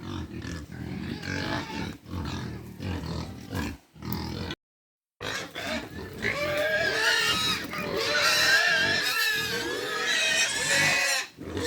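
Hungry pigs squeal and grunt loudly and repeatedly, a noisy chorus of distressed cries close by, with one brief silent gap.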